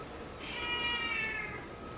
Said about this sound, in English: We have a cat who wants to say hello.